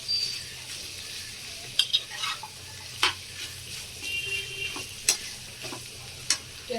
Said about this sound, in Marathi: वांगा पण टाकून घेऊया. चांगले मिक्स करून घेऊया त्याला.